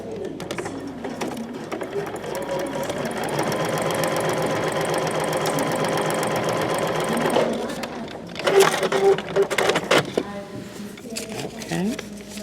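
A sewing machine runs steadily, stitching fabric for paper piecing of a Stellaris quilt block, with a continuous mechanical whir for several seconds before it slows and stops, followed by handling noises.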